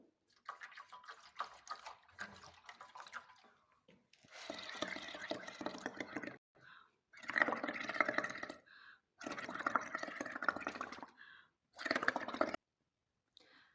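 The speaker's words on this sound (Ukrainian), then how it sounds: "Так, виливаємо фарбу." Paint poured out of a container in a children's craft activity, coming as several separate bursts of splashing, trickling liquid, each lasting one to two seconds, with short pauses between them and no talk.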